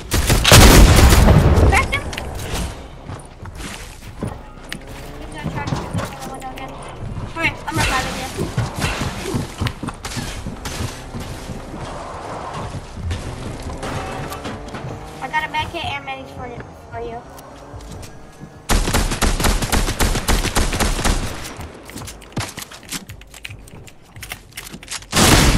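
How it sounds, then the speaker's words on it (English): Repeated bursts of Fortnite gunfire and booms, loud at the start and again in a dense stretch near the end, with game effects and a voice talking throughout. "He's gonna try to shoot me through the window."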